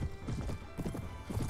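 Horse hooves clip-clop in a quick galloping rhythm during a medieval battle in the video game Mount & Blade Warband, steady and fairly close, with no talk over them.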